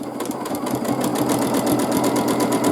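Sewing machine running fast during free motion quilting, a close, steady rapid needle rattle with a mechanical hum throughout.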